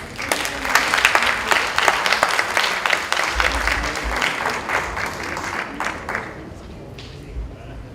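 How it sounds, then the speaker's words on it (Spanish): A warm burst of audience applause welcomes someone speaker at a conference on Educare and human values, dense clapping from many hands that fills the room and then gradually thins and fades toward the end. "La recibimos con un cálido aplauso"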